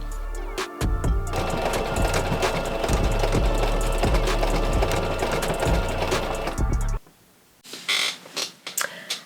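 A sewing machine stitches a heart shape onto cosplay lining fabric, running in a steady, loud mechanical burst for about seven seconds, then stopping abruptly before a few short, sharper handling clicks and rustles.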